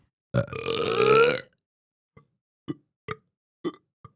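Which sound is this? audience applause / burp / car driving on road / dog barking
burp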